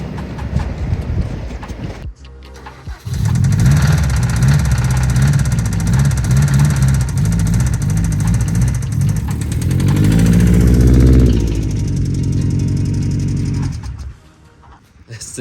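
A Subaru STI engine cranks and catches, then idles roughly with a loud, uneven, lumpy knocking beat close by, briefly rising before dropping away near the end.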